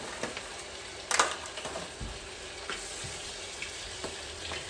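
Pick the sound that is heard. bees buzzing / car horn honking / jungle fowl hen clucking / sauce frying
sauce frying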